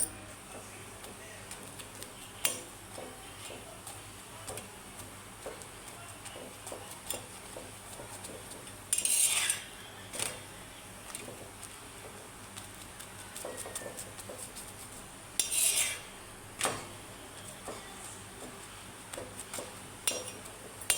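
Plates being served with hot rice roti, rice, stuffed brinjal curry and palya give scattered light clinks and taps of utensils against dishes, a few sharper knocks between quiet gaps, with no voices.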